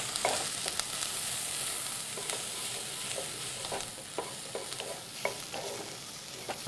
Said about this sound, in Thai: แล้วก็ผัดต่ออีกประมาณสัก 3 นาทีครับ